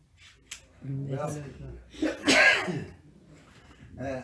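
A single sharp human sneeze bursts out midway through a grammar lesson in a room, loud and close, with voices talking and a brief chuckle around it.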